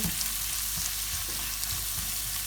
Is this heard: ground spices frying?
yes